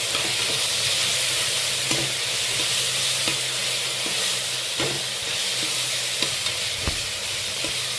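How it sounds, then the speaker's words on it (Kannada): Ginger garlic paste fries in a pan with a steady loud sizzle, punctuated by occasional soft clicks and scrapes of stirring, heard up close with no talking, while cooking pea pulao. "ಇವಾಗ ಶುಂಠಿ ಬೆಳ್ಳುಳ್ಳಿ ಪೇಸ್ಟ್ ಹಾಕ್ಕೊಂಡಿದ್ದೀನಿ. ಇದು ಹಸಿ ವಾಸನೆ ಹೋಗೋವರೆಗೂ ಚೆನ್ನಾಗಿ ಫ್ರೈ ಮಾಡ್ಕೊಳ್ಬೇಕು."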